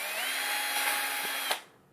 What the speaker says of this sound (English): you need to have a 2mm drill and remove the inside here